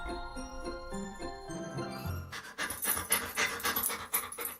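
A family dog pants rapidly and steadily, close and clear, while a soft tinkling, chime-like music bed plays underneath and brightens partway through.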